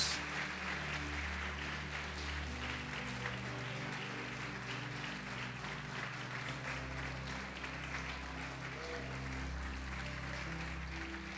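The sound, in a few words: congregation applauding in church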